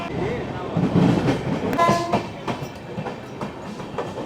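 Train 13115 Sealdah–Jalpaiguri Road pulling into Ranaghat station, with a steady rumble of wheels and carriages, a short horn-like tonal blast near the middle, and rhythmic clacks of wheels over rail joints continuing to the end.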